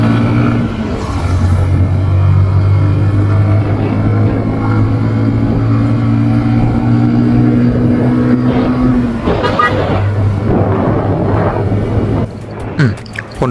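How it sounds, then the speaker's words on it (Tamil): A vehicle engine rumbles low and steady up close, its loud drone holding for most of the stretch before other noises break in near the end. "இப்போ தான் என் வண்டியோட சவுண்டு மறுபடியும் கேட்டு ஃபீல் பண்ணுங்கள்."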